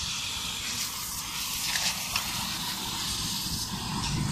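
Chain cleaner sprays onto a 125cc motorcycle chain in a continuous, fairly quiet hiss that holds steady for several seconds with a low rumble underneath and no talk.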